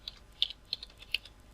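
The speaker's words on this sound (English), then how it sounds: "type what you want to download right here and hit the enter key." A few scattered computer keyboard key presses, ending with a firmer tap on the enter key, are heard close and fairly quiet, with no voice.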